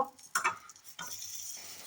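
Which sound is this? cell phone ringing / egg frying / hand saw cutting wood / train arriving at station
egg frying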